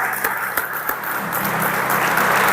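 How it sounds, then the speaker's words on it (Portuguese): A church congregation applauds during a Portuguese-language service, a dense, steady wash of many hands clapping, with a few sharper claps standing out near the start. "Aleluia, aplauda o Senhor."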